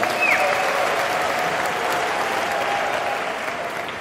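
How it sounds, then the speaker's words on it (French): A church congregation applauds at a parish anniversary celebration of Saint Augustin in Dschang, steady dense clapping that holds evenly and fades slightly toward the end, with no talking over it. "Applaudissons pour le Seigneur."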